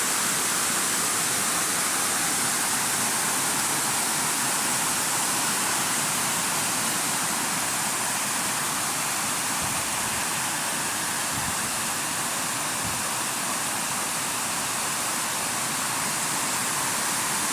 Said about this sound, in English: Came across this really cool waterfall.